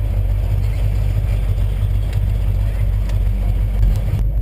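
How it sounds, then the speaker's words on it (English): A 1966 Dodge Charger engine idles steadily at about 700 RPM, a loud, continuous low rumble close by with no change in pace. "We've got a nice idle."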